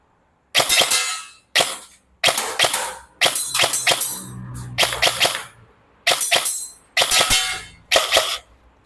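A G&G ARP9 electric airsoft gun fires at a target about 10 m away in rapid bursts: sharp, loud clattering strings of shots separated by brief pauses, with no talk.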